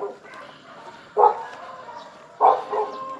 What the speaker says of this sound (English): Boy, these dogs.